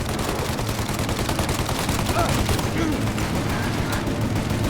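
Dense, loud gunfire from a shootout in Mafia: Definitive Edition, a continuous fusillade of overlapping shots and bursts running nonstop close up throughout.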